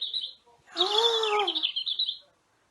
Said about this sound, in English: Oh, two little dicky birds.